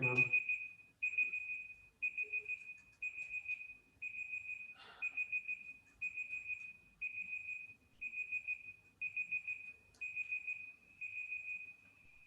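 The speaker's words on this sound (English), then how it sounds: "That was my alarm." An alarm clock going off in a lecture hall, sounding a loud, regular series of high electronic beep bursts, about one per second, repeating without pause over faint room noise.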